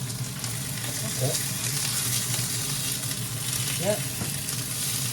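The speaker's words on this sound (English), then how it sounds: "It's sizzling." Oyster mushrooms sizzle steadily as they fry in a hot pan, a continuous close crackle running through with brief spoken remarks over it.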